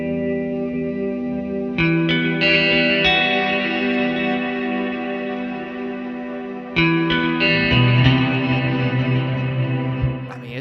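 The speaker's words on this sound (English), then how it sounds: "I'm using the Airy guitar pad with the doubler on" Archetype Rabea guitar plugin playing its Airy guitar pad with the doubler engaged: lush, washy sustained chords with a wide shimmering spread, changing chord around two seconds and again near seven seconds, alone with no talking.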